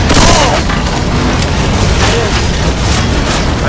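Loud, booming gunshots ring out in Left 4 Dead 2 amid a zombie fight, with heavy blasts crowding together and a voice shouting underneath.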